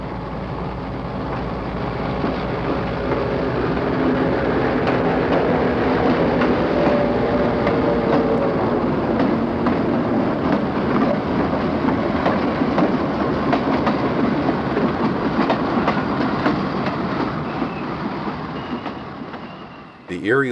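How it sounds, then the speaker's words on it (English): A Conrail freight train hauled by Erie-Lackawanna locomotives pulls out of Croxton Yard with a steady, loud rumble and continuous clickety-clack of wheels over rail joints. The noise holds throughout as the train rolls past close by. "This Erie-Lackawanna-powered Conrail train came out of Croxton Yard."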